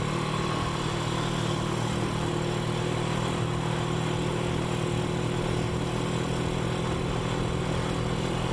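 Motorcycle fitted with 415 thin sprocket gearing cruises at around 60 km/h, its engine producing a steady, even drone mixed with wind noise, with no talking.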